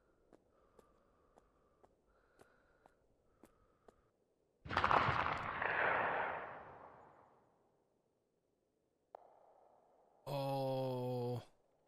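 A string of small sharp gunshot pops in a dinosaur horror video game, then a single loud booming blast that rolls and fades, followed by a short crack and a harsh buzzing tone.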